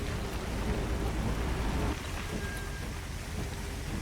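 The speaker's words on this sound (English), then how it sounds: "Must be some strong rain or some bad wipers." Heavy rain in a film scene, a dense, steady hiss of downpour drumming on surfaces with a continuous low rumble underneath, holding at constant loudness throughout.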